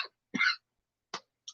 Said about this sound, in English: I said I wasn't going to clear my throat, but there's a cough.